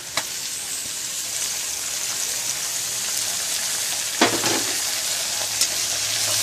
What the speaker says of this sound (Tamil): அடுத்து நாம எடுத்து வச்சிருக்க தக்காளியை சேர்த்துக்கலாம்.